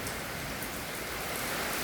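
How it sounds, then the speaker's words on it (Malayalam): Summer rain falling steadily in Kerala, an even, dense patter of drops on surfaces, close and uninterrupted, with no voices. "അസല് വേനൽ മഴ"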